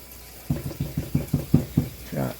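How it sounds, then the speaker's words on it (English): Utensils being rinsed under a running tap at a kitchen sink while cooking, with a series of soft rhythmic knocks and splashes over a faint water hiss. "rinsing things off as I go"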